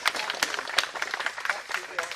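An audience claps at a woodland's second anniversary gathering, giving a dense, lively spatter of hand claps for a couple of seconds, fairly close, with voices mixed in.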